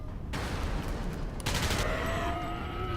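Sharp bursts of automatic gunfire in the alien shooter game Alien Breed: Impact, two loud rapid volleys with a short gap between them, harsh and close against a rumbling background.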